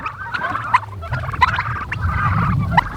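Turkey toms on open pasture, puffed up and displaying, with repeated short gobbling and clucking calls at close to moderate distance over a low rumbling background, no talk.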